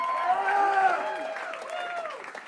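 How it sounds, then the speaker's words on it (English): A comedy festival crowd cheers and whoops for comedian Casey Crawford, with voices rising over scattered, steady clapping for the full stretch. "another round of applause for Casey Crawford"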